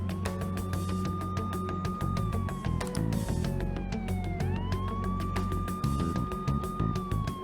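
Ambulance siren in the Persona 5 Royal video game, a loud wailing tone that rises and falls over the game's rhythmic background music, with no talking.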